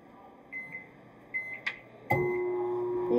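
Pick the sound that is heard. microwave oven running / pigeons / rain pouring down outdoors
microwave oven running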